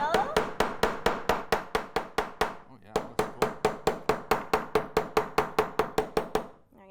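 Steady, evenly spaced hammer blows strike sterling silver at a jewelry workbench, about three sharp metallic hits per second. The strikes pause briefly once and then resume in the same rhythm, close and clear.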